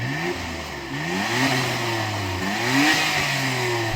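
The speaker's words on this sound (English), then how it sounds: "Go on R33, rev up your motor." A Nissan Skyline GT-R R33 is revved repeatedly, its engine rising and falling in several loud sweeps over a steady idle, up close with no talking.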